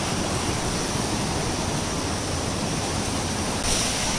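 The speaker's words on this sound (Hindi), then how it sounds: "कितना ज़्यादा फ्लो से है ये पानी," Neer waterfall near Rishikesh pours in a heavy, continuous roar of fast-flowing water, loud and close, with no voices.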